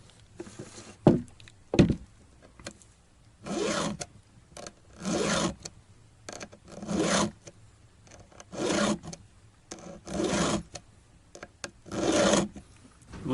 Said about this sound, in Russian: Вот так буквально 5-6 движений напильником, и зуб снова острый.